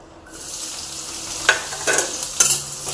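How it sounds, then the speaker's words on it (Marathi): Two onions drop into a hot kadhai and fry with a bright, steady sizzle, broken by a few sharper crackles and stirring scrapes near the end. "त्यामध्ये आपण हे 2 कांदे जे आहे ते टाकून घेऊयात"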